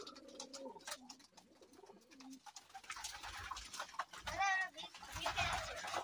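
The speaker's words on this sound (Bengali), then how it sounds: "সেইটা তো বন্ধুরা দেখতেই পাচ্ছেন কতগুলো পায়রা রয়েছে এখানে" Many pigeons cooing and calling together inside a pigeon farm in Durgapur, a dense, lively chorus of soft coos and flutters, fairly close, with some talk over the birds.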